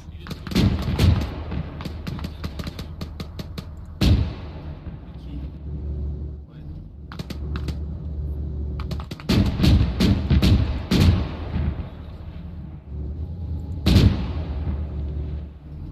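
Rapid bursts of heavy gunfire and booming cannon blasts in a Yugoslav War video game crackle in clusters, loud and close, with brief lulls between volleys.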